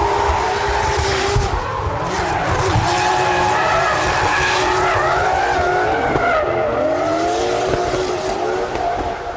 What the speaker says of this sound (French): c'est une course de drift en montagne